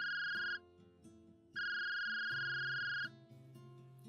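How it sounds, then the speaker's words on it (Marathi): A phone rings with an electronic tone, two long sustained tones separated by a pause, faint and alone with no talk. "तितक्यात तिचा फोन वाजला."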